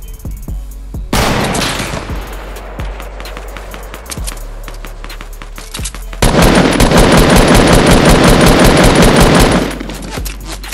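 Rapid automatic gunfire in the Fortnite battle royale video game: loud bursts of repeated shots, with a short volley early on and a long sustained burst in the middle, plus scattered single shots between.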